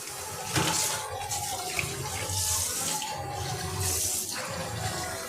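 Tap water runs continuously into a kitchen sink while pumpkin and potatoes are washed, a close, steady rushing splash with slight shifts in flow as the vegetables are handled.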